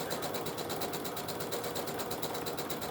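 A sewing machine stitches fabric for a sink skirt, giving a steady, close, rapid mechanical whir with an even rhythmic ticking pulse throughout.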